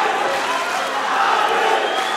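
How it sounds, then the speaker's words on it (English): A crowd roars and cheers at an MMA fight during a main event, a constant loud wash of voices filling the arena with no breaks. "the crowd is electrifying"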